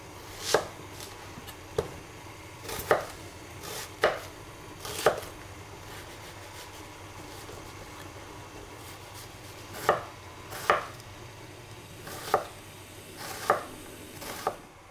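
A knife chops an onion on a board for a sweet potato hachis parmentier, about a dozen crisp, close thuds in irregular clusters over a quiet kitchen background.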